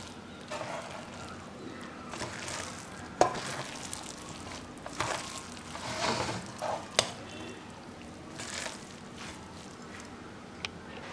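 Soya chunks stirred into vegetable noodles in a pan, with soft scraping, clinks and light sizzling in irregular bursts close by, plus a steady low hum underneath.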